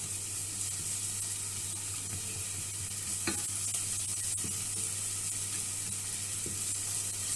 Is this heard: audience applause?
no